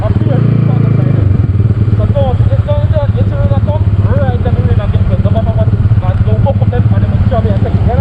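A motorcycle rides along a road in Jamaica, its engine a steady loud drone throughout, with speech over it.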